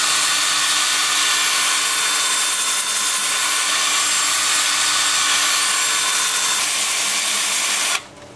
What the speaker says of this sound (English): Now the lathe is spinning in reverse, and my drill is spinning in reverse.